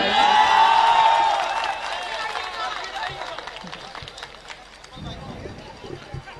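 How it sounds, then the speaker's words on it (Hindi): Audience applause at a Hindi-Urdu ghazal recital in Utraula, a dense burst of clapping that fades into scattered claps and crowd murmur, with a voice speaking near the end. "तो एक बार तालियों से बताइए।"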